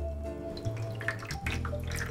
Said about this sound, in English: Drain off the water as much as possible,